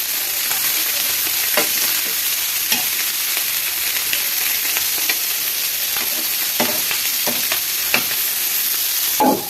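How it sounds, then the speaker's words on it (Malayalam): Fish frying in a pan, giving a steady, close sizzle throughout with occasional stirring clicks and scrapes. "നമ്മളെന്താ മീൻ പൊരിക്കുകയാണ്"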